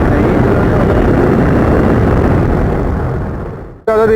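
A Bajaj Pulsar 220 motorcycle cruises on a highway at around 60 to 70 km/h, a loud, steady roar of engine and rushing wind that fades out abruptly near the end, followed by a brief tonal sound.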